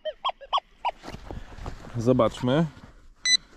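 Metal detector sweeping a field, giving a few short, bright beeping tones at the start and one more near the end, with someone talking in between.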